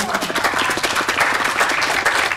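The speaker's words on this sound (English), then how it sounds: "can you give them a quick round of applause because they're awesome?" Attendees at a housing tools and strategies meeting give the facilitators a quick round of applause, a brief burst of brisk, close clapping from a modest group.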